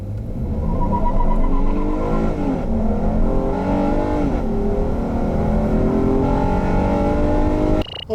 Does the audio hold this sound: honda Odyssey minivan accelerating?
yes